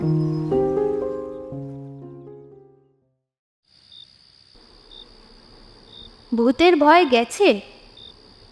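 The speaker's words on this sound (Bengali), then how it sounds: "ব্যাং ডাকছে, ঝিঝি ডাকছে।" After fading music, a thin, steady cricket trill with regular pulsing chirps carries on at night beside a graveyard, with frogs calling, and a voice speaks briefly over it.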